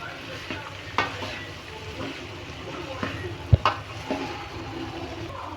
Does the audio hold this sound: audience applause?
no